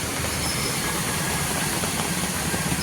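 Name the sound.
motorcycle engine running after water got in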